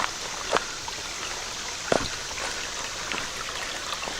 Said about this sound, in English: Got a little mini waterfall right there.